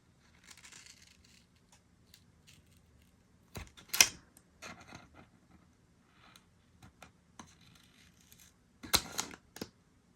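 Scissors snip through printed cross stitch chart pages to trim away an overlapping corner: sparse, crisp cutting clicks and paper crackles come close up in short clusters, separated by near-silent pauses.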